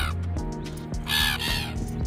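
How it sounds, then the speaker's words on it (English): A seagull calls repeatedly while begging for food on the Milnerton Golf Links course, its harsh cries rising over steady wind noise and outdoor ambience. "Got a seagull here begging for food."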